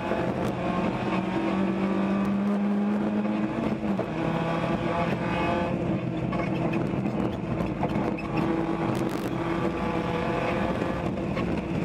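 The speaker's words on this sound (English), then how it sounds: "He's accelerating up the hill" A race car in a ChampCar endurance race accelerates up a hill on a road course, its engine note droning steadily and climbing in pitch through gears, heard at a distance through constant wind buffeting.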